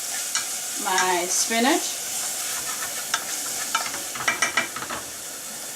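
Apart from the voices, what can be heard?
stirring spinach and garlic in a frying pan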